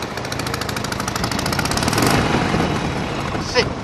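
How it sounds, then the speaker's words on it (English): A 2020 Harley-Davidson Sportster engine runs loud and close with a steady, throbbing rumble that swells slightly as the bike pulls away from its parking spot. "2020 CHD Harley Sporty, leaving the spot, going for a ride."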